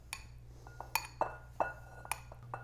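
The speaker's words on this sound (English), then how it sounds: "let's add our white beans to our bowl" White beans dropping into a glass bowl, about half a dozen light, bright clinks spaced irregularly over a quiet low hum.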